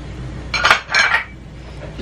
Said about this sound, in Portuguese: E agora é só misturar.